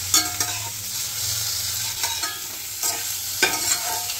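Chicken pieces frying with beans and carrot in a hot pan for a winter-vegetable chicken soup, a steady close sizzle broken by a few scraping stirs of a spatula, with no voices.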